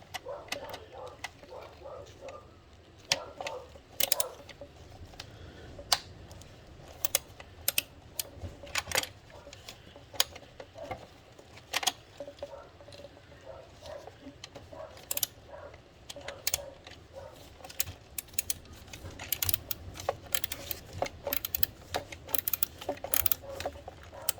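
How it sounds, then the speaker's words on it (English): A socket wrench ratchets on an intake manifold bolt of a 2008 VW Jetta 2.0T FSI engine, giving rapid irregular clicking bursts in short runs with small pauses between them. "I've got my socket in there wrong, or my wrench is on backwards, so I'm trying to loosen it, or I'm trying to tighten it instead of loosen it"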